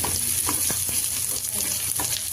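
Curd frying in a pan while cooking cashew kurma gives a continuous close sizzle with soft scraping stirs, steady and moderately loud with no talking.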